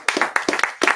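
Audience applause at a college music club open mic, a short burst of a few sharp, close hand claps in an uneven rhythm.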